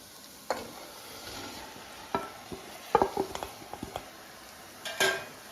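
Chicken rubbed with lemon juice is sautéed in masala in a pan. A soft, low sizzle runs under intermittent scraping and clinking from a spoon stirring, with a few sharper knocks.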